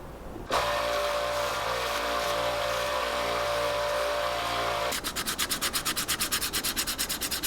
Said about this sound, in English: when there's microspheres in it, it's easier to sand down and smooth off